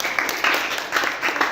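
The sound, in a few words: class applause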